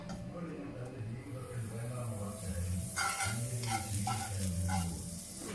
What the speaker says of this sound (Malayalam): നമുക്കിതൊന്ന് ബട്ടറിൽ ടോസ്റ്റ് ചെയ്തെടുക്കാം.